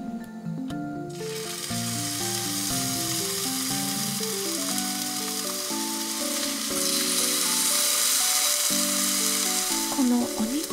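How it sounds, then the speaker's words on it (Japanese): Meat sizzles and fries on a small grill inside a parked car, a steady close hiss of fat spitting with no talk, while a soft tonal melody plays underneath throughout. "このお肉が焼ける音もとっても気持ちいいです。"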